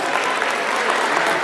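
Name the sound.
applause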